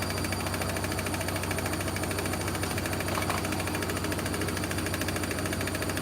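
Hoover SIX AAA Whisper 1600 washing machine on a late-night spin, shaking hard: a dense, continuous rumbling drone with a rapid mechanical rattle, fairly close and unbroken, with no talk.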